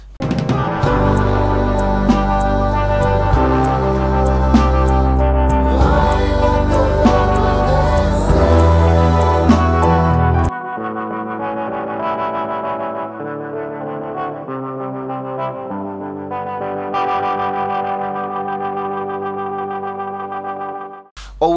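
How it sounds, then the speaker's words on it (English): A Mexican-made Fender Player II electric guitar with a little overdrive from a Cluster Effects Tsunami plays over a full backing track with bass and drums, then thins to lighter chorus-tinged guitar chords after about ten seconds. "I actually added a little bit of overdrive using the Tsunami of Cluster Effects."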